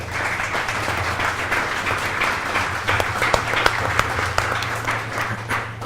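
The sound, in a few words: audience applause in an auditorium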